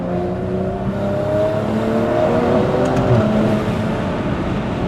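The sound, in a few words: BMW M340i accelerating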